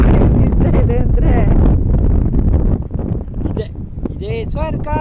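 Strong wind buffets the microphone on a hilltop viewpoint, a loud, constant low roar that runs the whole time while a person talks over it.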